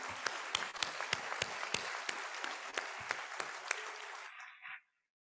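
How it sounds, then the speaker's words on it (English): Hall audience at a university inaugural ceremony applauding the founder president, a steady dense wash of clapping with sharp individual claps, fading out at the end. "I would request everyone for a big round of applause for our founder president"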